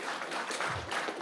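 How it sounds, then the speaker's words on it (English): Faint, distant clapping from a small audience at a school board meeting, a brief soft patter of hands without talk. "You can clap for that."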